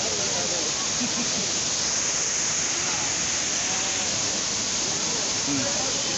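Waterfall at Ajodhya hill roars as a constant, dense rush of falling water with spray, loud and close, filling the whole stretch with broadband noise while faint voices sit under it.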